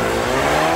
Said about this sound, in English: And you get a full bore standing start.